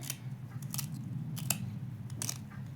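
Cauliflower stalks and attached leaves being cut by hand, giving a few crisp snips and crunches scattered over a steady low background hum, close and fairly quiet.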